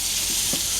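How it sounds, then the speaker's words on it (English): Brief, close sizzling of steak searing in a hot pan, a steady hiss with a couple of soft stirring sounds. "hear the sizzle, you're doing it right."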